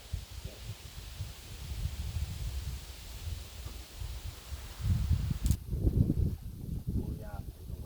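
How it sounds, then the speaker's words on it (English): Wind picks up outdoors as a low, steady rumbling whoosh with gusts that swell and fade, its loudest gust near the end, and someone speaks over it. "Oh yeah, there's a wind picking up."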